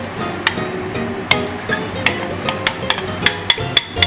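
An egg is beaten quickly in a large mixing bowl in a kitchen, the utensil making a series of sharp, close clicks and taps against the bowl over a steady background clatter.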